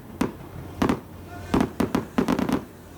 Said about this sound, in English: We have one shot for all these fireworks, people.